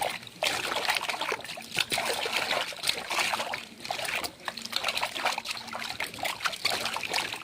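Water runs and splashes into a container being filled with drinking water, a continuous uneven trickle and splatter that rises and dips close by, with no talking.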